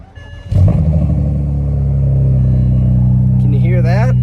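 A BMW E92 with a newly fitted aftermarket exhaust cranks and catches into a loud, close idle, then blips through a few rising revs near the end.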